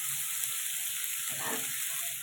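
Chopped vegetables for Bengali-style chow mein fry in a pan, giving a steady close sizzle with a soft stirring swell midway, no voices.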